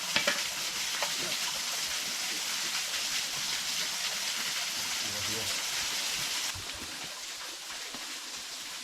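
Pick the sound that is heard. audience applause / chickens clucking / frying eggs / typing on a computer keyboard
frying eggs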